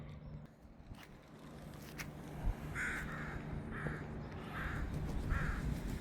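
Birds flying over a morning seashore give a series of about five harsh, crow-like caws in a steady rhythm, faint and distant over quiet background.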